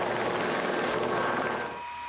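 Maritime helicopter landing on a ship's deck at sea: a dense, steady rotor and turbine roar fills the short stretch, loud and close, easing slightly near the end.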